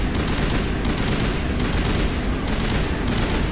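Dense, continuous gunfire in the sci-fi shooter RPG Mass Effect, a loud steady barrage of rapid shots with no pauses, filling the whole stretch without talk.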